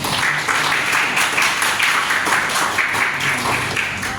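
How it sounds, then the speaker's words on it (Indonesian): Students in a university classroom clap together, a dense, steady patter of many hands close by that continues unbroken from start to finish. "Tepuk tangan dong"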